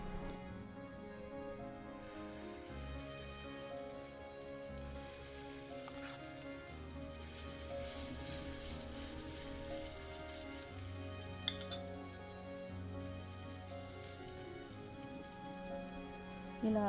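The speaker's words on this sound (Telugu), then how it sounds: "వేడైన తర్వాత మనం గ్రైండ్ చేసి పెట్టుకున్నాం కదా, ఆ పిండిని కొద్దిగా ప్యాన్లోకి వేసి బాగా తట్టండి." Moong dal batter poured onto a hot skillet, giving a soft, steady sizzle that hisses on throughout, faint beneath a louder layer of background music.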